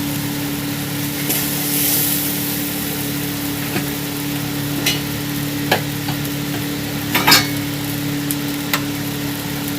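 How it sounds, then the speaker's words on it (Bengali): Water is added to a fish curry with raw mango frying in a pan. A low steady sizzle runs beneath occasional clinks and scrapes of stirring, heard close and fairly quiet. "এবার আমি জল দিয়ে দেবো অল্প একটু।"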